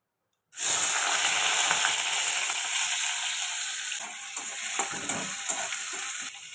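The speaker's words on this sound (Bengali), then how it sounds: "তেলটা দেখো এদিকে গরম হয়ে গেছে এখন আমি পেঁয়াজ কুচিটা আগে দিয়ে দেব" Chopped onion drops into hot oil and bursts into a loud, close, hissing sizzle that holds steady with faint stirring scrapes.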